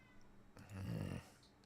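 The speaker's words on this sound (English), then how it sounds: "I've got a cat that just won't be quiet" A cat indoors makes one brief, low, faint vocal sound in a quiet room.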